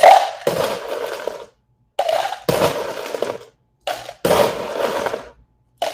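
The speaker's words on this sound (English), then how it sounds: "It's easier for you to whisk it." Genmaicha matcha whisked briskly in a small amount of liquid for an iced latte: bursts of rapid scraping swish, each lasting about a second, separated by short pauses, close and fairly loud with no talk.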